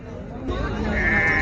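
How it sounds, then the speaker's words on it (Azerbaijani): A male lamb of the Beylagan breed bleats at a busy outdoor livestock bazaar, one loud, close, drawn-out cry rising over crowd chatter. "Kəskili erkək quzular. Beyləqan cinsi."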